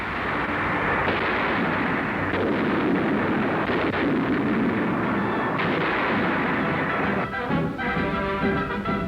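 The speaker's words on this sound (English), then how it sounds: "Heavy fighting continues on Leyte, with American big guns pounding the reinforced enemy." Artillery fire from American big guns pounding enemy positions on Leyte in 1944, heard as a continuous dense roar of booms and rumbling blasts, loud and sustained throughout, with no talking.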